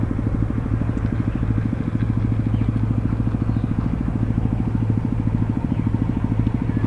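A motorcycle in poor condition, unserviced for four to five months, rides along near a river with a steady, close, buzzing engine drone and a faint rattle throughout.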